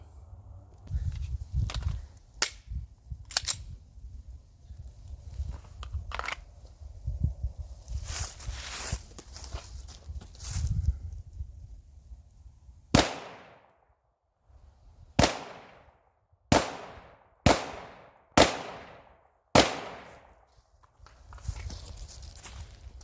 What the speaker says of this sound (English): Let's get this loaded and fire it.